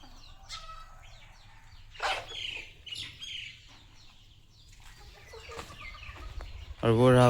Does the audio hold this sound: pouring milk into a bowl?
no